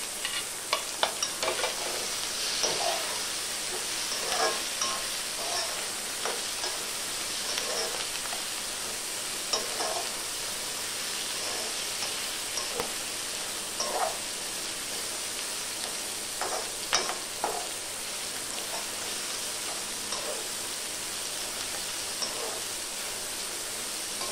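Fried dried shrimp cooking with kokum and tomato in a pan: a steady, soft sizzle continues throughout, broken by frequent light scraping and clinking strokes of stirring, with no talking.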